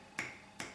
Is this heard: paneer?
no